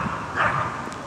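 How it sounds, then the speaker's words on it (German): A neighbour's dog gives one short, muffled bark from some distance, heard alone over a steady background hiss. "Ein Hund, der bellt."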